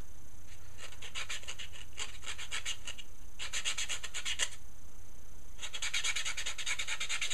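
A gel manicure is buffed off a fingernail in repeated bursts of quick, close scratchy rubbing, separated by short pauses, with steady background hiss.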